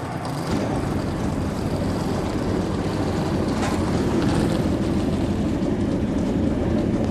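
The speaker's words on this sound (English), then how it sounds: "Drivers, start your engines!" Several NASCAR Camping World Truck Series race truck engines start and settle into a loud, steady, continuous rumble at a speedway, with no voices, the roar holding level throughout.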